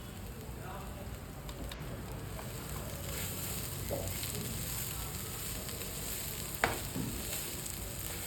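Chopped dill (shepu) sautés in a pan, a steady close sizzle and hiss that continues without a break, with a few faint stirring clicks.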